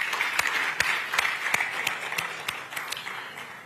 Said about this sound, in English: give all of us a round of applause